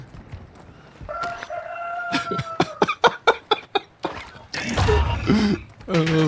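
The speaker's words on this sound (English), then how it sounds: "Look at this dude's got like an actual cockerel." A rooster crows inside the video game DMZ, a long rising call with a rapid run of sharp strutting clucks and squawks, loud and near, while a person talks over parts of it.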